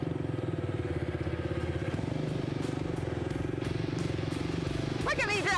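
A supercross motorcycle engine drones continuously at close range, a steady pulsing buzz with rhythmic firing, while a person talks briefly near the end.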